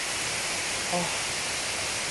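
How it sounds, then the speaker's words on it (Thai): Heavy rain pours at Mae Kampong waterfall in Thailand, a steady loud broadband hiss filling the whole stretch with no letup, and a brief faint voice-like tone breaks through near the middle. "ฝนตกหนักเลยครับตอนนี้"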